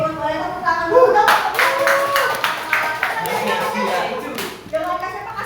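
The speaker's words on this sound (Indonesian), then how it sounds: "Oke, Gun, boleh tepuk tangan dulu dong." A small group at an organizational training session claps in a burst of irregular hand claps close by, alongside people speaking.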